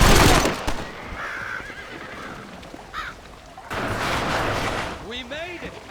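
Horses neighing in the video game Red Dead Redemption, a loud close whinny at the start followed by further shorter whinnies and snorts, with scattered crackling noise and a brief burst of noise midway.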